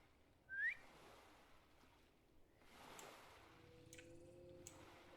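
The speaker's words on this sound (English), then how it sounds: "That whistle was her calling her mount." A Guild Wars 2 character calls her mount with a short, quick upward whistle, sharp and clear above quiet ambient background, followed by faint distant rustles and a low hum.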